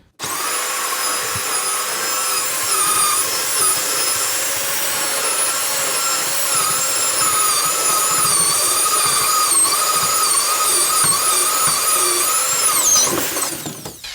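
A power drill finishes boring a pre-drilled hole in wood beneath a bathroom vanity sink. It gives one long, loud, continuous whine whose pitch wavers slightly as the bit works through, then winds down at the end.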